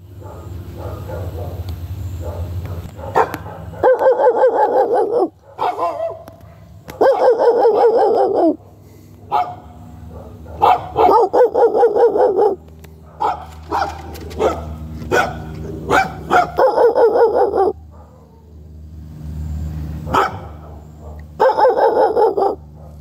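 A dog barks in repeated loud, close bursts, several barks per burst with short gaps between, mixed with some whimpering. A person talks in between.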